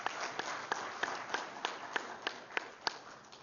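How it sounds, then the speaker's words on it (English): Applause from the audience at a tuberculosis and leprosy stakeholders' conference, a steady, fairly faint patter with a few louder regular claps standing out at an even beat. No voices are heard. "I think he deserves a louder applause than that."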